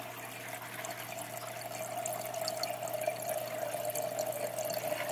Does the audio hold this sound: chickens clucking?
no